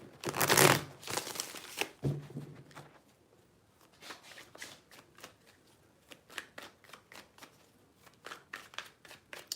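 Tarot cards are shuffled in quick riffling bursts, a loud flurry at first, then repeated softer riffles and taps, close by and without speech.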